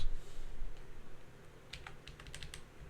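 Quick bursts of keystrokes on a computer keyboard, a light patter of clicks that thickens toward the end, close and quiet with a soft background hum.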